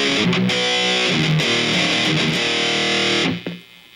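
Electric guitar run through a Boss eBand JS-10 with the gain at maximum plays a dense, heavily distorted riff with sustained crunchy chords and short muted stabs, ending as the notes decay.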